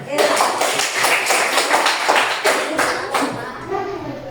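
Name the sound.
class clapping hands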